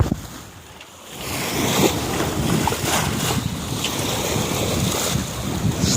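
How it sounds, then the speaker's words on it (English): Sailboat cutting through open Atlantic Ocean waves, with continuous rushing water and surf along the hull under heavy wind buffeting the microphone, loud and close throughout. "Just love seeing this boat cut through the water like that."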